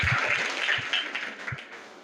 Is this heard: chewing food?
no